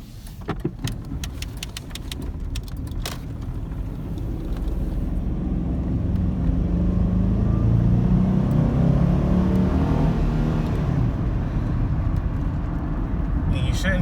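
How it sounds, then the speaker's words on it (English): Truck engine revved hard while still cold, a rough, rising roar that builds and holds for several seconds, with clicks and rattles at the start and someone talking over it. "you shouldn't drive your truck hard like this either while it's cold"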